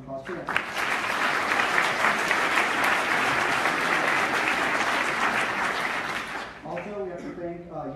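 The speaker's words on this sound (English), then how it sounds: "so another round of applause for that" A seated audience at a campus speaking event breaks into loud, sustained applause lasting several seconds, fading as a voice resumes talking.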